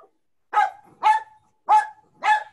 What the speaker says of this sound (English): We'll just let him bark.